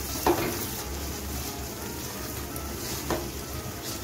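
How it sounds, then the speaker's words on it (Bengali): Grated coconut and poppy seed paste sautéing in oil for a Bengali prawn curry gives a steady, quiet sizzle with a couple of brief scrapes of a stirring spoon near the start and past three seconds. "এখন আমি নারকেল কোড়া পোস্ট পেস্ট দিয়ে দিচ্ছি, দিয়ে 1 মিনিটের মতো আবার কষিয়ে নিচ্ছি।"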